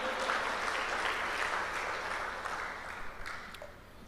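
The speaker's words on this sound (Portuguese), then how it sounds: "Quem está me entendendo, aplauda bem forte o nome do Senhor, em nome de Jesus" A church congregation applauds during a worship service, with a fairly quiet, roomy wash of clapping that gradually thins out and fades toward the end.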